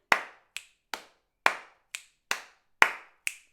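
Eight sharp, close hand claps beat out an uneven rhythm for a singing practice. Each is a bright, fairly loud crack that dies away quickly, with no other sound between them.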